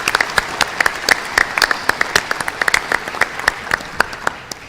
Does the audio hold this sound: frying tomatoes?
no